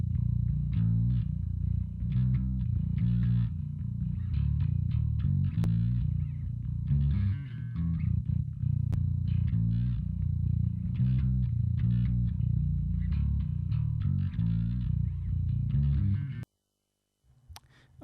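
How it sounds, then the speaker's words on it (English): Solo bass guitar in a metal production mix, all effects bypassed, plays a steady line of low, growling notes for about sixteen seconds, loud and up close, then stops abruptly. "so the bass on its own sounds something like this."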